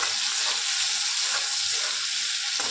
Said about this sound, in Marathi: चांगलं भाजू द्या मिरच्या जरा।